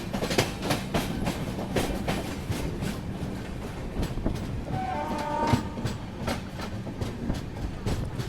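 The Grand Trunk Express rolls into Chandrapur railway station, a continuous rumble with rhythmic clickety-clack of wheels over rail joints and a short horn-like tone midway.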